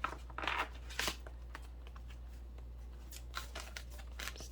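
Tarot cards being drawn from a deck, with soft papery slides, flicks and shuffles in a few quick bursts, close and fairly quiet.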